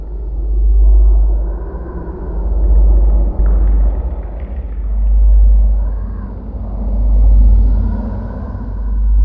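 A car drives steadily for a sound-effect scene, its low engine rumble swelling and easing in slow waves, close and continuous with no voices.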